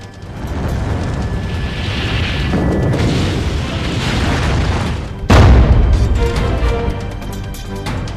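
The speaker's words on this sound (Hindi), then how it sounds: "रूसी बमबारी में जल रहा यूक्रेन।" Explosion from Russian bombardment in Ukraine: a low, rumbling roar of distant blasts and fire builds for several seconds, then a single sharp, heavy boom hits close and loud before the rumble continues.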